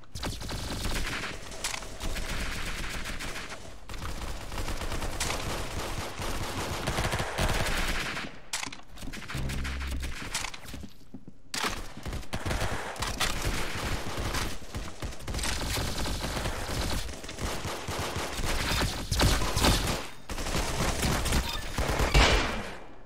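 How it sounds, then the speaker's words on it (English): Dense, continuous gunfire from the Roblox shooter game Arsenal, with a shotgun among the shots, rolls through a loud, busy game mix with only brief lulls. "That definitely sounded like a shotgun."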